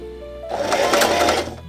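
A sewing machine stitches a zigzag on scrap leather, a short burst of rapid, even mechanical clatter lasting about a second, close and clear, following a quiet hum.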